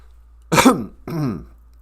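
Two rough, husky coughs, close up, with a brief pause between them.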